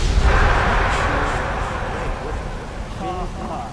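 A loud, deep explosion boom in the video game Enderal rumbles and slowly fades, followed by a brief voice near the end.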